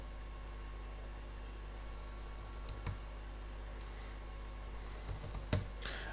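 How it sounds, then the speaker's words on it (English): Keys tapped on a computer keyboard while entering dimensions in 3D modelling software: sparse clicks in two short bursts, close and fairly quiet over a constant low electrical hum. "all I'm doing here is just typing in some dimensions"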